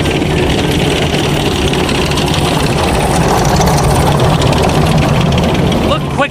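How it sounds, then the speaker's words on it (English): A big green toy bulldozer runs with a steady, loud engine-like drone and rumble throughout, a continuous motor hum with a faint vibrating rattle close by. "It's a big green bulldozer."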